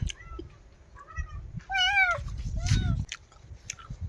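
A cat meows several times in a mountain village home, short rising cries building to a louder, longer wail, close by over low rumbling background noise and some handling sounds.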